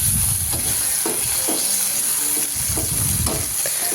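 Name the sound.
sliced tomatoes added to frying ginger in oil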